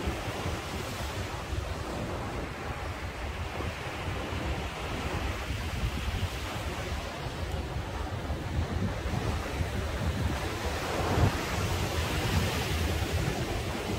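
Ocean waves wash steadily onto a sandy beach at Sokcho, a dense, continuous roar of surf with gusty wind buffeting the microphone and no voices.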